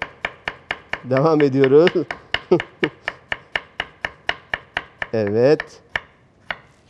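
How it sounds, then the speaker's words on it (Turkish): A knife chops carrots finely on a cutting board in a kitchen, with rapid, evenly spaced close taps throughout and two short spoken phrases heard over the chopping. "Havuçlar da hazır. Bunu da ince doğradı ki erken pişsin."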